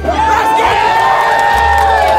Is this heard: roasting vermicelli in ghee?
no